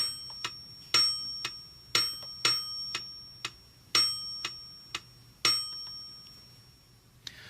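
A Korg SP-250 digital piano's metronome ticks steadily and brightly, with a louder bell-like ding marking the first beat of each bar, sounding close and clean over a quiet background.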